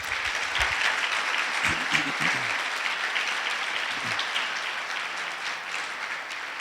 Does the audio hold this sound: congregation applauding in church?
yes